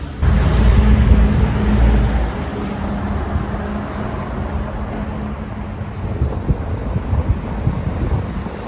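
Gusty wind buffets the microphone at the eastern beach in Gibraltar, with a broad rushing roar of surf behind it, loudest at the start and then settling into a steady wash.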